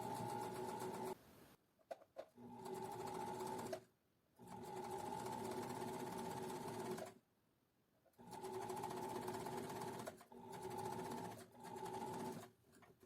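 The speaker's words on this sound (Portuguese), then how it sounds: "E vou costurar aqui em volta, ó. Costuro bolso com bolso, tá?" Sewing machine stitching around a pocket, joining pocket to pocket, in several steady whirring runs separated by short pauses, close and even, with no speech over it.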